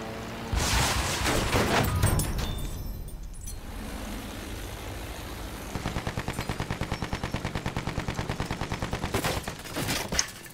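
Pom-pom anti-aircraft guns in the video game Battlefield 1 fire amid loud battle noise, opening with a heavy blast and then pounding out a fast, regular burst of repeated shots.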